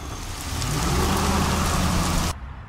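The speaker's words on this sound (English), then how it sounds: "You made it rain." Rain falls steadily during a kayak fishing trip as a dense, loud hiss of drops on surfaces that cuts off abruptly near the end.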